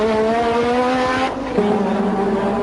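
A 1986 McLaren Formula One car at the Monaco Grand Prix screams past at high revs, a loud, steady engine whine that shifts pitch briefly.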